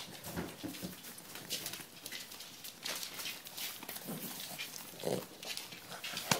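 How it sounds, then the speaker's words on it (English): Several dogs moving about indoors, with scattered snuffling, short barks and yelps at middle distance over a busy, uneven background. "You've got all the dogs in here now"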